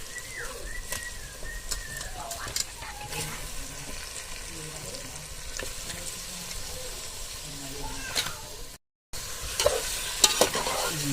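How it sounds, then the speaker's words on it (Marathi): Fish pieces stir-fried in a spice masala, a spatula scraping and turning in the pan with soft sizzling in a steady rhythm, outdoors with birds chirping in the background and a brief dropout near the end. "माशाचे तुकडे यामध्ये टाकल्यानंतर हे परतून घ्यायचे जेणेकरून सर्व माशाच्या तुकड्याला मसाला एकदम व्यवस्थित लागतो"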